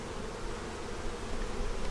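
Honey bees buzz steadily around hive frames and boxes during a winter hive check, a dense, continuous hum that stays close and fairly even throughout.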